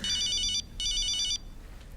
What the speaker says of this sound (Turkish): Kimin telefonu o?